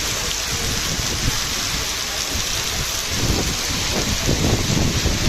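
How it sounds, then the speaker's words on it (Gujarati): Heavy downpour at the Gondal market yard, a dense continuous roar of rain drumming on surfaces with low rumbling undertones, loud and steady throughout with no voices. "અત્યારે ગોંડલ માર્કેટ યાર્ડમાં વરસાદ ચાલુ થઈ ગયો છે, જોઈ શકો છો તમે।"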